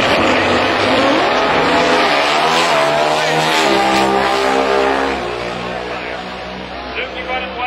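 Pro Stock Motorcycle drag race between Andrew Hines and Jim Underdahl, with loud high-revving bike engines screaming and climbing in pitch, then fading slightly as they pull away, while an announcer talks over the roar.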